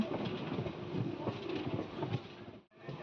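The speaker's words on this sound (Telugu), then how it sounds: "మన ట్రైన్ 4 నంబర్ ప్లాట్‌ఫామ్ మీదకి వెళ్తుంది." Train running into Bhimavaram Junction toward platform 4, a steady rolling rumble with faint wheel clatter, moderately close, ending in a brief dip before the noise resumes.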